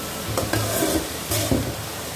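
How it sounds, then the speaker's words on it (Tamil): Vegetables sauté in hot oil for a coconut vegetable fried rice. A spatula scrapes and tosses them in a few quick strokes over a constant close sizzle. "இந்த காய் நல்லா எண்ணெயிலே வதங்கட்டும்."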